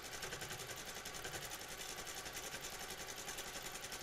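A sewing machine stitches a quilt in a fast, even, continuous whir of rapid needle strokes, faint and steady with no voices.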